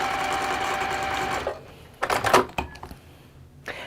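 Sewing machine stitching a fabric pouch, a close, steady mechanical whir that runs for over a second, then stops and restarts in short bursts.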